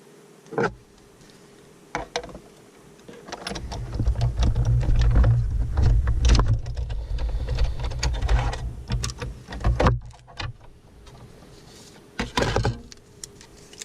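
A die-cutting machine pulls card through a stitched oval die with a low mechanical whir lasting several seconds, framed by scattered clicks and handling taps before and after.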